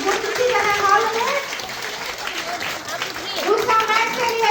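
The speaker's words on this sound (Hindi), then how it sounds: "जोरदार तालियों का स्वागत, तालियां गुंजती रहे हॉल में।" Standing applause from a hall audience at a makeup workshop in a mall, sustained loud clapping throughout with a voice speaking over it at the start and again near the end.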